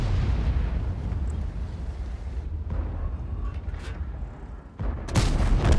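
Tank cannon fire and battle rumble in the video game World of Tanks, a sustained low roar that dips briefly before a loud, sharp cannon blast near the end, with no speech.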